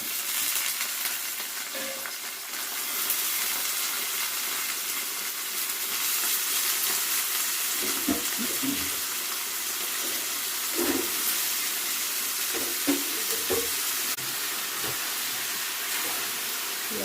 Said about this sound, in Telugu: ఉల్లిపాయ పచ్చిమిరకాయ ఇవన్నీ వేగిపోయినాయండి ఇప్పుడు ఉప్పు నీళ్ళల్లో వేసాం కదా అరటి అరటి ముక్కలు ఇవి కూడా వేసేస్తున్నాం